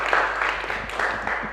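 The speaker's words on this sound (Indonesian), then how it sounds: "Beri tepuk tangan kepada kelompok 1 dan 3." A classroom claps for student groups after their presentations, a brief, steady patter of hands at moderate volume with some murmuring voices mixed in.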